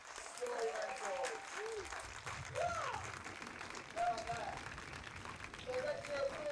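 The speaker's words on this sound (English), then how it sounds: "Can we get a round of applause?" Theatre audience applause at a Brighton Festival performance, steady and broad, while voices and cheers carry over the clapping.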